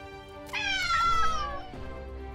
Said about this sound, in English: Gotta love those kittens,